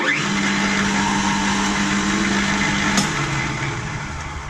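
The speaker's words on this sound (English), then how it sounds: "tighten it in again, and drill the second hole" A drill press bores a hole in a workpiece clamped in a machine vise, a steady whirring motor drone with a sharp click partway through, then the sound winds down.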